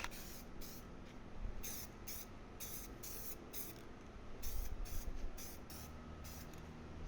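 SEM satin black spray paint misted onto car trim, a continuous close hiss swelling and pulsing in short bursts as the nozzle is pressed, with no talking.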